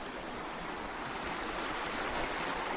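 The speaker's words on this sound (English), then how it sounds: "As you walk here, you just hear the river flowing" A river flows past a village construction site in Kenya, a steady faint rushing wash that stays even throughout with no voices.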